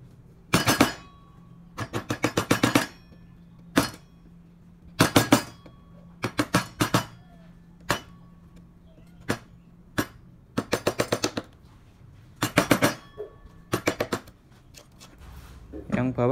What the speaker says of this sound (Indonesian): Sela-selanya menggunakan pahat kol. Saya menggunakan pahat kol yang kecil karena menyesuaikan ya.